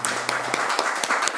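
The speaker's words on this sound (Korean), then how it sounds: "우리 뜨거운 박수 한번 쳐드릴까요?" Applause at a Korean city council steering committee meeting honoring the retiring secretary-general, a steady spread of clapping hands filling the room, moderately loud and continuous for a brief moment without talk.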